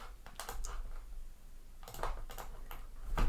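Quiet computer keyboard typing in a few short bursts of soft clicks, separated by brief pauses, close to the microphone with no talking.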